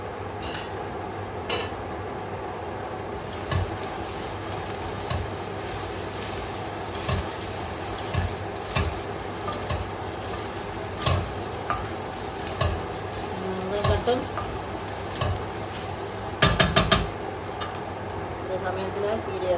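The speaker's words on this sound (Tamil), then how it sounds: "இப்போ இந்த சமயத்தில் கொஞ்சம் வெந்தயம் போடும் மீன் குழம்புக்கு வெந்தயம் போட்டால் தான் டேஸ்ட்டாக கொடுக்கும்" Fenugreek seeds fry in hot oil as the base for a fish curry, a steady close sizzle with occasional spoon scrapes and clinks against the pan, while someone talks faintly over it.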